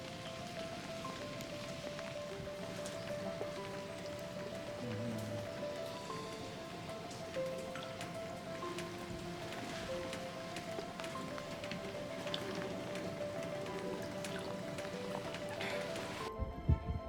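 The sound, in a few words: rain falling outside in Ireland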